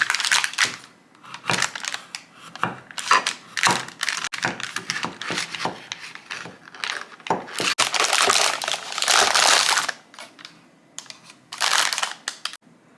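A knife slicing through homemade treats on a cutting surface, producing a run of crisp, crackly cuts and scrapes, close and fairly loud, in irregular bursts with no talking.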